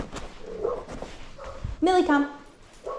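Millie, a pet dog, lets out a short, sharp bark between a person's spoken commands in a quiet room.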